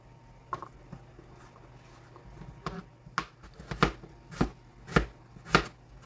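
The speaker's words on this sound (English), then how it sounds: "So now we're just going to cut our potatoes and in cube size, not too small, not too big either." A knife chops potatoes into cubes on a board, scattered light cuts at first, then a run of about six firm, evenly spaced chops, close and clear with no speech.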